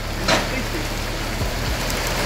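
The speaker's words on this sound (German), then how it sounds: "Und dann regnet es jetzt doch." Rain falls steadily as a broad, even hiss during a bicycle tour through the Turkish backcountry, with a brief louder patter near the start and faint low rumbles underneath.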